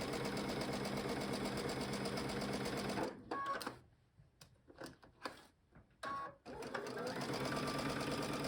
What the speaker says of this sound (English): I'm going to start near the white pin and sew to the edge of the quilt